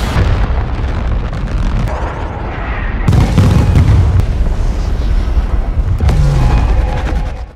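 A heavy missile explosion booms and rumbles loudly, followed by a sustained roar of blasts and debris with further thuds near the end.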